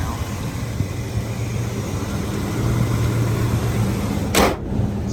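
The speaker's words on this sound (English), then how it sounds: "That's why we got probably a high idle going on right" A 454 engine runs at a high idle, a steady loud rumble with a continuous low drone throughout and a brief sharp burst near the end.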